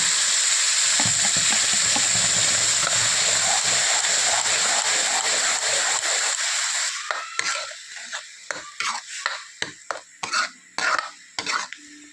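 An eggplant dish with garlic frying in a pan, a steady loud sizzle at first that gives way to intermittent stirring scrapes and clinks of a utensil against the pan.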